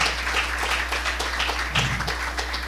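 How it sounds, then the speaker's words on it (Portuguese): A church congregation applauding during a service about evangelization, a brief dense burst of many hands clapping together, fairly loud and unbroken. "Você pode aplaudir a Jesus por isso, irmão?"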